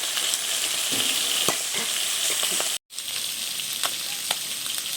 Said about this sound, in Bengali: এ কড়াইতে গাংমুখীগুলো ভেজে নিচ্ছি।